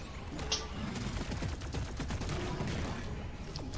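Automated turrets in Deep Rock Galactic fire in rapid bursts of gunfire, a dense rattling stream of shots at moderate level across the whole stretch, with occasional small chirps over it.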